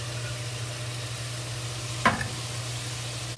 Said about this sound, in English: then we mix it to stir it, let it well fried